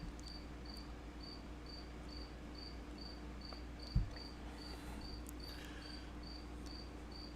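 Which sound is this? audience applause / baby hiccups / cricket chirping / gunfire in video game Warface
cricket chirping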